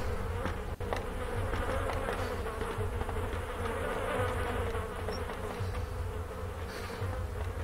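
Flies buzz continuously in the video game Arma 2, a dense, droning insect hum that stays steady and close for several seconds over low outdoor ambience, with a faint click early on.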